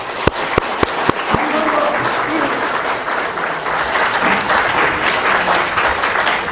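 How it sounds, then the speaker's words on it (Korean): At a Democratic Party leadership rally in Gangwon, a crowd applauds after candidate Park Ju-min's speech, opening with a few loud single claps that swell into steady, full applause. "다시 한번 뜨거운 박수 보내주시기 바랍니다"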